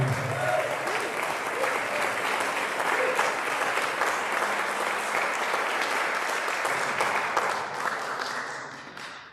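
A concert audience gives a thick, continuous wash of applause at a livestreamed show, steady for most of nine seconds before tapering off, with scattered voices underneath.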